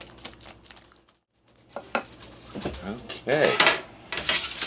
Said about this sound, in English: We're going to whisk that for 2 minutes, as the box says.